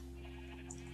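A sheep in the video game Minecraft gives a short bleat over steady game background tones, close and fairly quiet.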